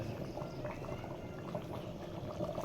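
Boiled hot water being poured into khichuri cooking in a pot, a soft, continuous bubbling and liquid gurgle, faint and steady with no voices.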